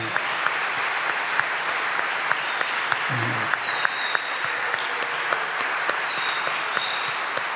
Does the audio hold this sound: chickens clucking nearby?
no